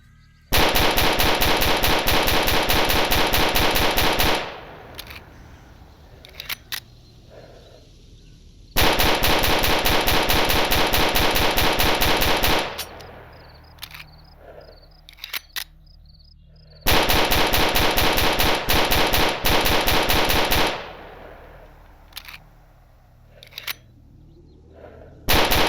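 Rapid, sustained gunfire from an MP443 Grach 9mm pistol in the video game STALKER Anomaly, three long continuous bursts of loud shots separated by short pauses filled with quieter clicks and reloading noises.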